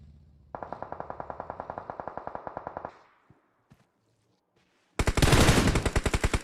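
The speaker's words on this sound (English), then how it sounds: "Nice shots from Madeline and Scar on Mello up there" Automatic gunfire in the PUBG Mobile battle royale game, two rapid bursts of evenly spaced shots, the first about two and a half seconds long, then a brief near silence before a louder, harsher burst.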